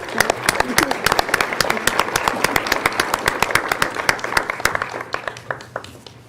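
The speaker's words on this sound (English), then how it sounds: "Let's give Jackie a big round of applause" Applause at a county commissioners' business meeting, a small room of people clapping with distinct close claps in a quick uneven rhythm that thins out toward the end.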